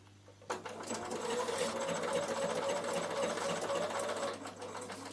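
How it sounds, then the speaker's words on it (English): A Bernina sewing machine stitches wool applique for a draught stopper, running in a steady, fast mechanical whir close up that starts abruptly and holds for several seconds before easing off. "And I'll stitch 1 more."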